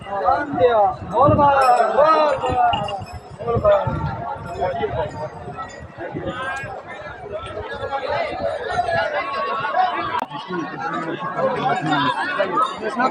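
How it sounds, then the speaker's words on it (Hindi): A large crowd of devotees packs the Ganga ghat at Sultanganj, a dense, close babble of many overlapping voices with scattered shouts and clinks, loud and continuous throughout. "तो ये है सुल्तानगंज का गंगा घाट, जहाँ पर आप देख सकते हैं कि दूर दूर तक ही जो है बाबा के भक्तों की भीड़ उमड़ी हुई है"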